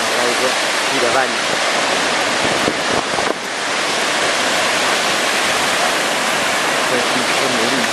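Seawater running downhill across the sand at low tide on Praia da Lanzada in Galicia, a loud steady broadband rush of flowing water and surf filling the whole stretch.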